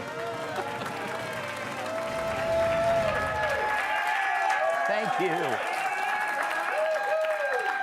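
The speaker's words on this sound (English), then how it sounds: "Hold your applause until the next segment." A studio audience applauds and cheers loudly in a steady, sustained wash of clapping that grows fuller midway, while a voice speaks briefly over it.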